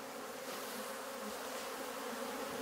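Honeybees buzz in a steady, close drone that holds without pause, a dense hum of many wings, as about 300 bees are collected into a jar.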